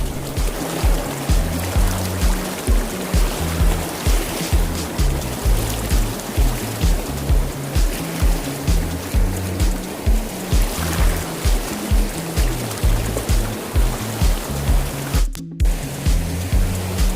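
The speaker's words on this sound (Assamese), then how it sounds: "চাওক সম্পূৰ্ণ সাগৰৰ দৰে বৈছে পানী সোঁত" Fast-flowing water of the Dhansiri river close to Bhutan, a continuous loud rushing roar with rhythmic low churning pulses repeating steadily, a brief dropout near the end, no one talking.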